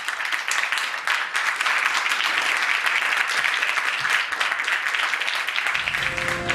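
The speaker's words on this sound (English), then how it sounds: "please give them a huge round of applause" Sustained applause from a conference audience thanking panelists at a forum, a dense, loud and continuous wash of clapping that runs throughout before a low hum and a faint voice emerge at the very end.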